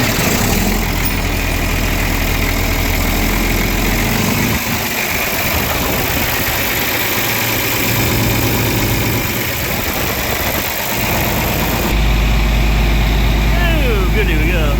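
A repaired farm machine, with its hood back on and hydraulics reconnected, runs with a loud, steady engine drone that holds throughout. A person talks over it.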